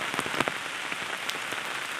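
Heavy torrential rain pouring down in the Konkan countryside, a dense steady hiss of drops drumming on surfaces with scattered sharper splashes, close and alone without voices.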